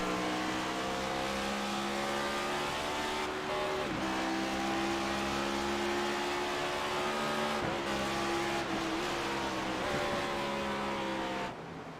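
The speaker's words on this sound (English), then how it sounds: "you can definitely hear all the drivers working the sequential gearboxes on these next-gen Cup cars" Next-gen Cup race cars with sequential gearboxes in a racing video game, engines droning loud and steady, with quick dips in pitch as gears shift several times across the clip.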